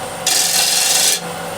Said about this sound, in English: Might get it with a scraper.